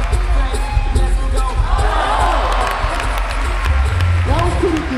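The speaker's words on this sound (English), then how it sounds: "give him a round of applause" At a university dunk contest on a first-night event in Connecticut, a large indoor crowd cheers and applauds steadily, with voices shouting throughout and the noise staying loud.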